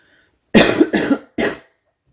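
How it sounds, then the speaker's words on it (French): Three sharp coughs in quick succession, close and fairly loud, the last one separated by a short pause, with no talking around them. "je vais encore tousser"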